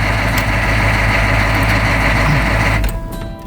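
Diesel truck engine idling close by with a loud, steady low rumble and clatter that drops off abruptly near the end as it cuts out or changes, leaving a quieter hum.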